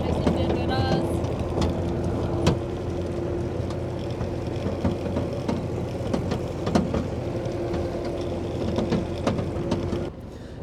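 Tractor engine running steadily throughout a ride through a bison park in Yakutia, a continuous low drone with a sustained tone, with rattles and bumps over it and the engine dropping away near the end.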